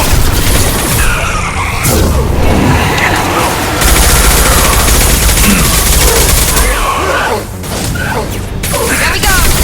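A heavy weapon fires in Mass Effect 2 with sustained, loud bursts and blasts layered into dense, chaotic combat noise, and voices speak over the din.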